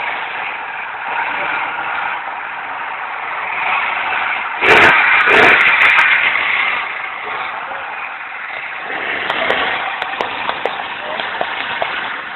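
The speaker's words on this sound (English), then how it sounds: "Engine." A speed boat engine drones steadily while leaving a riverbank on a river in Rivers State, Nigeria, a continuous mid-pitched roar with a brief louder surge partway through and some voices underneath.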